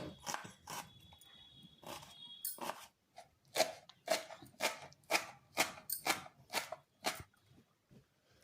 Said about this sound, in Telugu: ఇవి నానేలోపు మనం పచ్చిమిరపకాయలు ఉల్లిపాయలు కొత్తిమీర పుదీనాకు ఇవన్నీ కట్ చేసుకుందాం